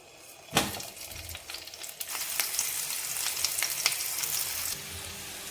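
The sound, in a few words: halved boiled potatoes frying in mustard oil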